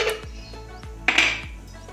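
Whole spices, cinnamon, cloves and cardamom, with cashews stirred in a cooking pot for chicken pulao, giving a rhythmic series of close metal spoon clanks and scrapes against the pot, with no talk.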